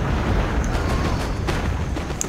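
Cannons firing grapeshot in a Total War battle, heard as a rumbling low roar of distant artillery with a few faint sharper reports scattered through two seconds, no talk over it.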